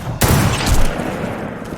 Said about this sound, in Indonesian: Mereka berdua beradu tembakan.